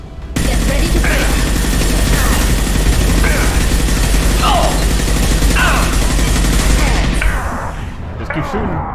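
Sustained, loud rapid gunfire during a Mass Effect 2 firefight against the Geth. It runs as a dense wall of shots for about seven seconds, then thins out, with a voice speaking briefly over it.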